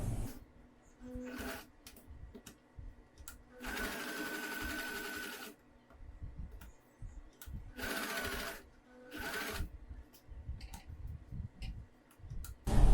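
A sewing machine stitches a boat neck blouse in bursts, its rapid needle clatter starting and stopping several times between quieter pauses, close and moderately loud with faint handling noise in the gaps.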